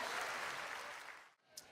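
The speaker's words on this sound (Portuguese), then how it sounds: "Dê um aplauso a Jesus bem forte aí." A church congregation applauds in a worship service, a brief burst of clapping that starts moderately loud, thins out and drops away within about a second.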